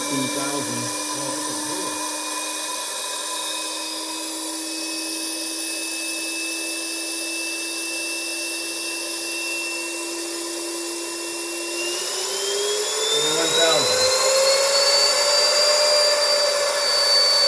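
A Tesla turbine spinning up toward supersonic periphery speed gives a loud, steady high-pitched whine with harmonics. Near the end the whine climbs sharply in pitch as the turbine keeps accelerating.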